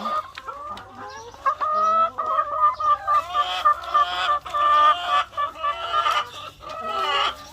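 A flock of laying hens on an egg farm clucks continuously and fairly close, with overlapping cackles and squawks rising and falling in a busy, steady chorus.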